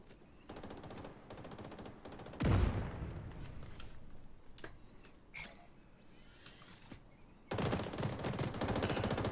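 Civilian militia gunfire in a video game: bursts of rapid rattling fire open and close the passage, with a heavy boom early on and scattered distant shots and clicks between, fairly quiet overall.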